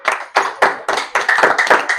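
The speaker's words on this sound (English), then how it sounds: "Please applaud him" Clapping for a faculty dean at the commissioning of a solar inverter system, a few pairs of hands giving sharp, close claps in a quick, uneven rhythm for about two seconds, with no talking.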